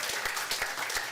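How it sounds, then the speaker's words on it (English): An audience claps together in a steady burst of applause, moderately loud, with no voices standing out. "Come on, give her a round of applause."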